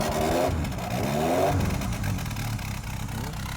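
A genuine 1965 Mini Cooper S barn find cranks and fires into a loud, revving idle, the engine clattering up close and settling into a steady running note.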